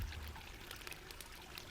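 Rain-swollen clear mountain stream rushing below a cliff, a steady broadband wash of flowing water with small splashing flickers, continuous and fairly faint as if heard from a distance.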